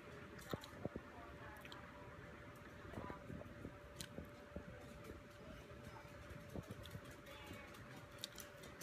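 Close, soft chewing of a gluten-free brownie, moist squishy bites repeating irregularly against a faint steady hum.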